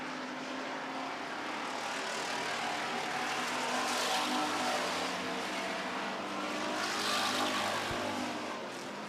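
Street stock race cars roar around a track during a feature race, a continuous loud engine drone that swells twice as cars pass close, with no talking.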